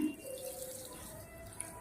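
A small bowl of water is poured onto sugar in a pan to start syrup for Mysore pak, a faint steady trickle and splash lasting under two seconds, with no talking.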